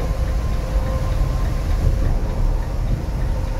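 A Volvo double-decker bus engine, heard from inside the moving coach, gives a steady, smooth low drone with a faint tonal hum that holds evenly throughout.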